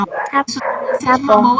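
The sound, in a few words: dogs barking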